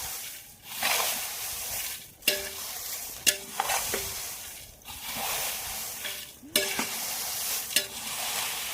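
Masala and coriander roast in a dry pan with a breathy, hissing sizzle. A spatula clacks and scrapes against the metal every second or so, near and moderately loud, with no talking.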